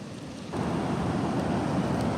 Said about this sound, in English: kick back, enjoy these waves